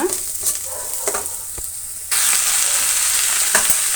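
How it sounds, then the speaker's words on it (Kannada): Onions fry in a pan with a soft crackle and a few utensil taps, then the sizzle suddenly swells into a louder, brighter hiss partway through that carries on to the end. "ಈರುಳ್ಳಿ ನೋಡಿ ಈ ರೀತಿ ಫ್ರೈ ಆಗಬೇಕು"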